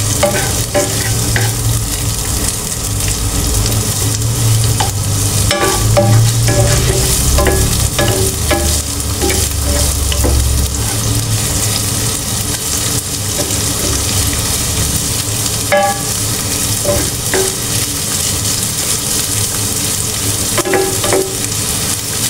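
Onions frying in a pan for ginataang gabi (laing), a continuous close sizzle with repeated scraping stirs and clinks of the spatula against the pan throughout.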